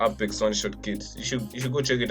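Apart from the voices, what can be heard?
None of the usual background noises is heard.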